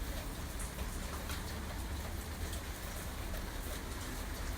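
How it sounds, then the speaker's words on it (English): Steady rain falls throughout, a dense even hiss of drops on surfaces with no voices, after months of dry weather. "I don't know if you can hear it raining in the background."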